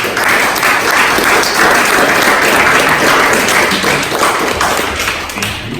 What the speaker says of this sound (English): I'll give a round of applause.